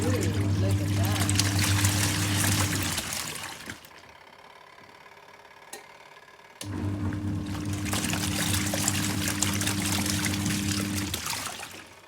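Superbrite portable washing machine churning water and detergent, a loud steady hum with sloshing water that stops for about three seconds midway, then starts again and runs on.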